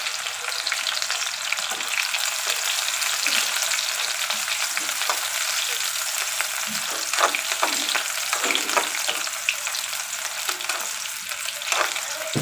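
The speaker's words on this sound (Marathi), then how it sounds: "कांदा टाकून घेऊयात हिरवी मिरची देखील आपण तुकडे केलेली होती ते देखील टाकून घेऊयात" Chopped onion and green chilli sizzle hard in a hot pan for a homemade Chinese-style wheat-flour breakfast, a loud continuous hiss broken by scattered crackles and stirring scrapes.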